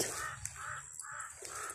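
A bird calls outdoors on a mountain in several repeated hoarse bursts, moderately distant, with a steady background hiss and no talking.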